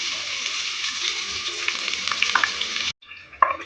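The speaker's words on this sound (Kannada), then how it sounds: "ಬೆಳ್ಳುಳ್ಳಿ ನೀಟಾಗಿ ಫ್ರೈ ಆಗಬೇಕು." Crushed garlic fries in oil with mustard seeds: a steady, bright sizzle that cuts off abruptly near the end, then comes back quieter with a light clink.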